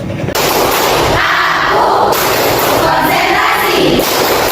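A class claps and chants in unison during a rhythmic ice-breaker, producing a loud, continuous, crowded wash of hand claps and voices close by.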